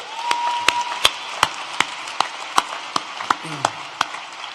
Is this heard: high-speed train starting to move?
no